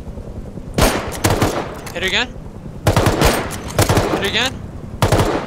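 Rapid bursts of gunfire from the survival video game Rust ring out in several loud clusters, while players talk briefly over the shooting.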